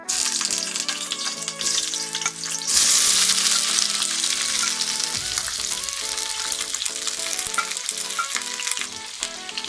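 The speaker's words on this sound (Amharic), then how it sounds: "ድስታችንን ወይ መጥበሻችንን እንጥድና ዘይት እናደርጋለን በመቀጠል ቃሪያ ነጭ ሽንኩርት እና ቀይ ሽንኩርት እሱን አንድ ላይ እናደርጋለን" Chili, garlic and onion frying together in hot oil in a pan, a loud, dense sizzle that surges partway through and keeps crackling steadily with occasional stirring clatter.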